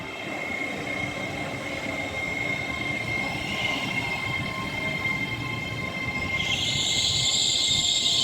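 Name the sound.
train 805 008 passing through Rugby station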